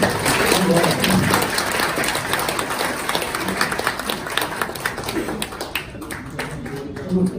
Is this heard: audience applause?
yes